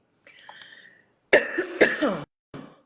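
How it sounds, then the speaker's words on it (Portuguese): A few harsh coughs close by, coming in a short burst after a soft hum, then one more brief cough. "desculpa a tosse"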